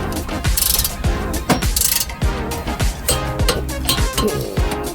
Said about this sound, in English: now we're going to torque them